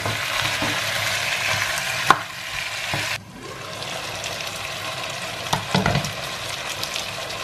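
Jamaican curry chicken sizzles and fries in a pot while being stirred, a continuous crackling hiss with scraping stirs and a few sharp knocks, a brief drop in the sizzle partway through.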